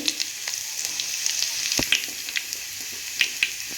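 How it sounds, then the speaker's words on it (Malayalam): Mustard seeds, fennel and shallots frying in hot oil give a close, steady sizzle with scattered sharp pops and crackles, and no voices. "എണ്ണ ചൂടായപ്പോൾ അതിനകത്ത് കടുവും പെരുംജീരകവും കൊച്ചുള്ളിയും കൂടി ഇട്ട് കൊടുത്ത്"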